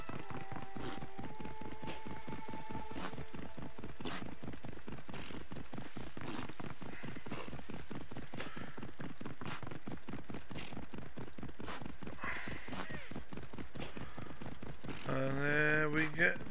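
Rapid, steady hoofbeats of a horse galloping in Assassin's Creed Odyssey, a continuous rhythmic clatter at moderate level that runs unbroken, with a brief tonal game sound near the end.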